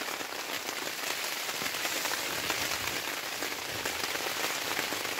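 Steady rain drums on a budget Naturehike tent during a wild camp in south-east Scotland. The patter is dense, close and continuous, filling the whole stretch with no voices.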